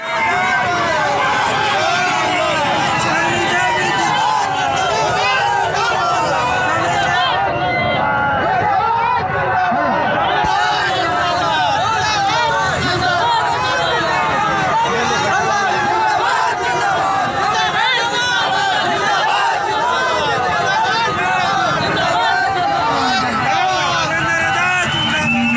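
A large crowd chatters nonstop at a village panchayat election gathering. The dense, steady babble of many voices stays loud and close for the whole stretch, with no single speaker standing out.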